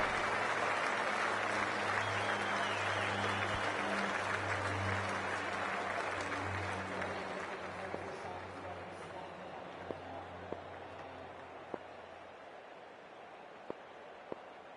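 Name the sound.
crowd cheering as players come out, from the video game Cricket 24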